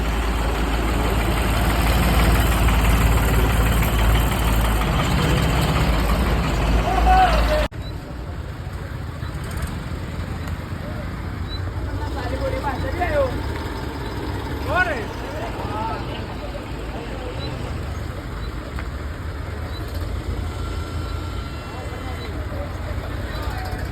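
Tractor engines idle and rumble with low heavy tones at a village rally, loud at first and then quieter after an abrupt cut, with crowd chatter and voices mixed in.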